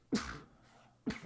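Two short, faint sneezes about a second apart, close by, with a quiet gap between them.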